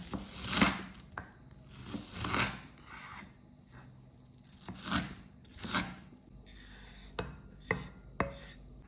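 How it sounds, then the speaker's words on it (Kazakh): A knife dices red onion into cubes on a board, giving a series of close, crisp chopping strokes in uneven bursts, with a few sharper single cuts toward the end. "Одан соң менде қызыл пияз. Көп салмайым, кішкене дәміне қарай салам. Оны да кубик қып тураймыз."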